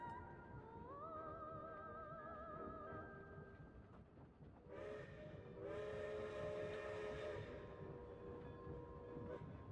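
Train in the video game Genshin Impact, with a steady rolling rumble beneath several long tonal whistle blasts, sliding and overlapping, the loudest coming in the second half, heard without talking.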